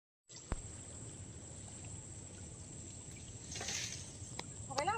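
Tidal river water streams and trickles in among keora trees in the Sundarbans forest, a soft continuous flow that stays faint and steady, with a brief splashier swell near the end.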